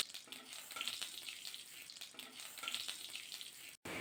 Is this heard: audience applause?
no